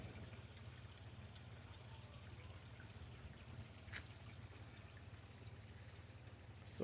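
Small water feature in a bird aviary trickling steadily and quietly, a soft continuous flow with a low hum beneath and no speech.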